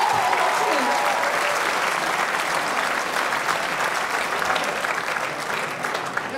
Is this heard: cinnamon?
no